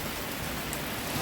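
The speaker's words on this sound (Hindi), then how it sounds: "झमाझम बारिश हो रही है।" Heavy rain pours down steadily on a path through hilly ground, a dense, even wash of noise that persists without a break.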